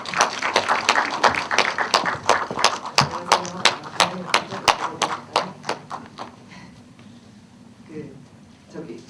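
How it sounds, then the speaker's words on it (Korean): Audience applause for a film director walking out at an indie screening Q&A, a run of loud sharp claps that thins and fades away after about six seconds, leaving quiet room tone. "박수로 환영해 주시기 바랍니다."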